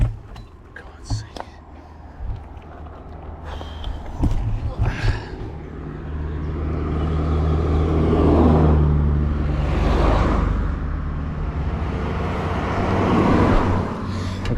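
Cars passing on a road in Luxembourg near Putscheid, heard by a runner on the roadside, a vehicle swelling loud and close then fading, with engine rumble, wind and breathing from the runner.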